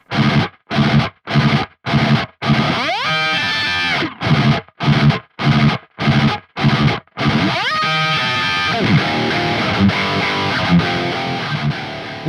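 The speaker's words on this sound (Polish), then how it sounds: "najbardziej brutalne i mięsiste brzmienie gitary zaklęte we wtyczce" Heavily distorted metal baritone guitar through the Neural DSP Gojira plugin: loud, chugging staccato riffs in tight rhythmic bursts with abrupt silences, then sustained, thick low chords ringing out.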